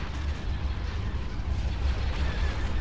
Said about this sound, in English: Group 2 is pouring all their fire on the